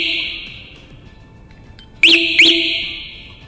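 Encore M1 motorcycle alarm sounding, a steady high-pitched electronic tone that jumps to two loud sweeping whoop-like chirps near the end, close and alone.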